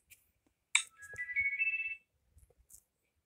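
Reflect notification tone on a Meta Quest 3 headset: a bright chime attack followed by a sustained, shimmering electronic tone lasting about a second, clear and alone before fading to near silence.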